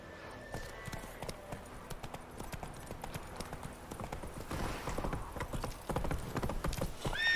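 A horse gallops in The Witcher 3: Wild Hunt, its hooves making a fast, steady clip-clop that stays loud throughout, with a brief whinny near the start.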